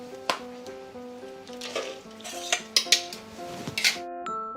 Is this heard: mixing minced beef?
yes